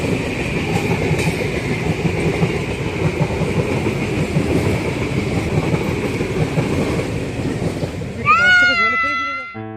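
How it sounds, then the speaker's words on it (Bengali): A train rolls past at close range, a dense steady rumble with rail clatter that ends in a burst of high horn-like whistling tones, while people speak faintly. "এখানে দাঁড়িয়ে রয়েছে ট্রেনের আওয়াজ শুনে ট্রেন দেখার জন্য"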